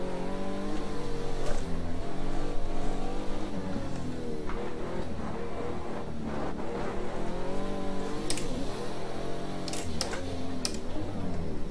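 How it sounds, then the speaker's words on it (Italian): A Pagani Huayra engine revs hard as it accelerates, with a rising whine of turbo whistle over the steady roar, loud and close. "senti il fischio del turbo"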